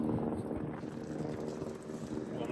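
Wind blows across an open outdoor area on a homestead, giving a low, gusty rumble with fluctuating buffeting noise that stays steady and moderately loud without voices.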